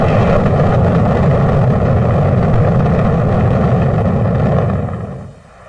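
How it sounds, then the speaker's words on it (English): The Apollo 11 rocket liftoff roars as a loud, dense, broadband rumble that holds steady for several seconds before fading away toward the end. "We have a liftoff. 32 minutes past the hour. Liftoff on Apollo 11."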